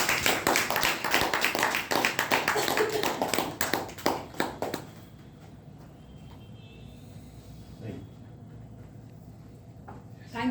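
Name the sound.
audience applause at a Toastmasters meeting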